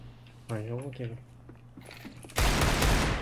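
Gunfire from a video game shootout erupts suddenly near the end as a loud, dense burst of rapid shots. Before it, a voice speaks briefly over quieter background noise.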